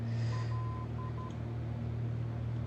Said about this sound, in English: That beeping is the NDB station sending out its signal, of course.